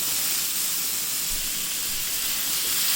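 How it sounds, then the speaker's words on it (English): Pork belly fries in a hot pan over medium-high heat for Thai drunken noodles, giving a steady, loud, unbroken sizzle and hiss with no voices. "we are going to turn the heat up to almost medium-high now at this point. Just to get that pork nicely cooked quickly"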